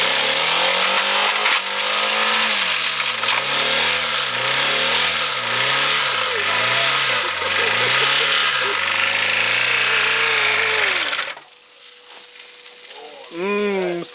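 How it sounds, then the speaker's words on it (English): Honda Civic with a D16A8 engine revved hard with the throttle floored, a loud rising and falling rev cycle repeating for about eleven seconds before cutting off, followed by a brief lower engine rise. "It's idling with my foot to the floor."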